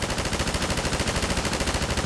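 Rapid gunfire from a mounted gun in Half-Life 2 rattles continuously at an even pace, loud and dense throughout with no voices.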